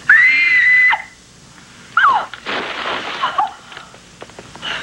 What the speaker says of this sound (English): He knew that scream could only mean one thing.